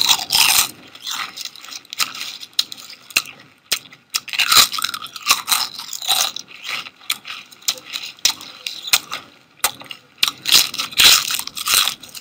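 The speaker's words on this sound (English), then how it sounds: "Every time a person crunches into a potato chip" Loud, continuous crisp crunching of potato chips being bitten and chewed, a dense crackly stream close to the mic lasting throughout, with no voices.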